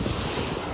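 Surf washing onto a beach at sunrise, a steady broadband wash with strong wind buffeting the microphone, constant and close throughout.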